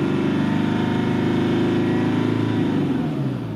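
Mercedes engine with excessive injection rail pressure revved to around 3000 rpm, a loud steady close-up drone holding its pitch before easing off slightly at the end.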